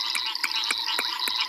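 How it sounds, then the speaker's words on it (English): A knocking sand frog calling at sunset on a safari, sharp hollow knocks repeated about every quarter second over a steady high insect drone. "that's a knocking sand frog"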